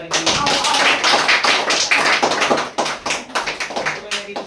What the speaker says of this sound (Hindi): सभी लोग कीजिए ताली स्वागत कीजिए।